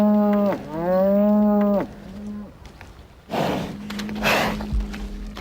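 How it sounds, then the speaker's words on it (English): A cow lows loudly and close by in a long, wavering moo, followed by a shorter second call, then quieter rustling and snorting from the animal afterward, with no talk. "Plenty of cows have got horns,"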